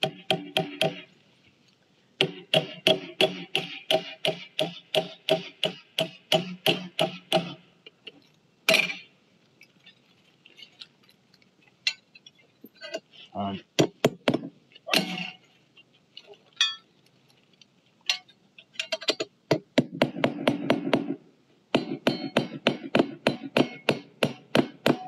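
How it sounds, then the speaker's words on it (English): A hammer drives a metal plate onto a wooden raised garden bed in long runs of rapid, sharp strikes, close and loud, broken by short pauses and a few heavier single blows. "I'm going to go ahead and hammer my plate in place."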